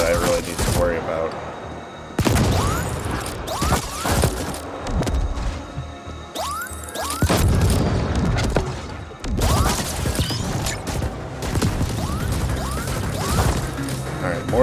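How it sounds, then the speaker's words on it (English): Mortar blasts and gunfire in the sci-fi video game Ascent, with repeated loud explosive impacts and bursts of shooting arriving in dense clusters over a continuous roar of combat. "It's only the mortar that I really need to worry about."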